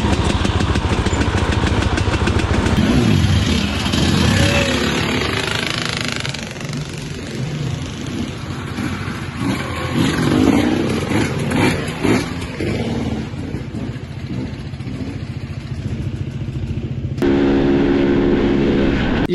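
Husqvarna and KTM motocross motorcycle engines roar and rev continuously close by, a loud buzzing drone rising and falling with gear changes, rough and mechanical throughout.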